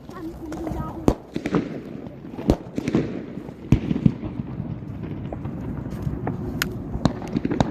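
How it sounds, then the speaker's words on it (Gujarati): Diwali firecrackers going off outdoors, a run of sharp close bangs and crackling pops at irregular intervals over a noisy background, with people talking throughout. "Last bomb of today. 24th bomb."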